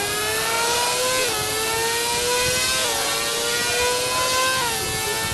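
A Kawasaki motorcycle engine revs loudly and continuously on a ride, its pitch climbing and then dropping at each of three gear changes.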